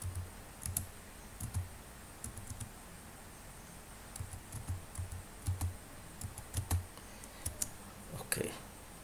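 Quiet keystrokes come from typing a password on a computer keyboard, arriving as scattered clicks in short irregular bursts at close range over a faint hiss.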